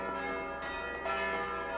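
Bells ring from a church tower in Assassin's Creed Valhalla, layered tolling tones sustaining continuously with a swelling, resonant hum throughout.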